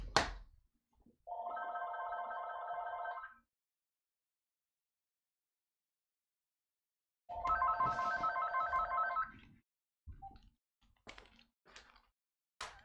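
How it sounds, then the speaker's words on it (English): A telephone rings twice in separated, buzzing trilling bursts about two seconds each, with a long silent gap between them, followed by faint clicks and handling sounds in a quiet room. "Phone's ringing."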